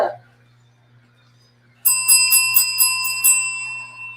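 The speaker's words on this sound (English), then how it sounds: "Ringing the bell" A small bell rings in a quick series of bright metallic dings after a brief silence, the tone lingering and fading.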